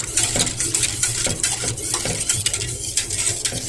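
A spoon stirs biscuit cake pudding mixture in a pot, scraping and clinking against the sides in quick, irregular strokes, close and fairly loud with no talking.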